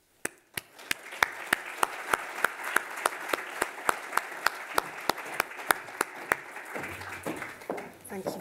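A conference audience at a library symposium applauds to welcome a keynote speaker, with steady, moderately loud crowd clapping punctuated by a rhythmic series of sharp, near claps that fades as the applause ends.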